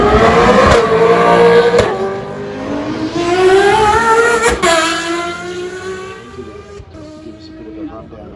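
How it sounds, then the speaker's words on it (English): A Lexus LFA V10 hypercar screams around a motorsport festival circuit, its high-revving engine loud and close, rising and falling through gear changes, with a commentator talking over it. "that Lexus is around the circuit at the moment"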